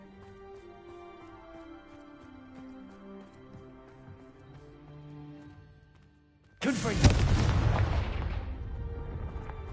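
A Bombarda spell blast striking pumpkins in Hogwarts Legacy, a sudden loud boom after a quieter stretch of music and ambience, followed by a rumbling, decaying burst.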